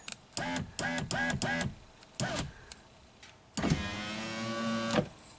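Power window motor on a Subaru with a cooked motor, whirring in several short bursts as the glass creeps up in small steps, then one longer steady run, close and fairly loud with no talking.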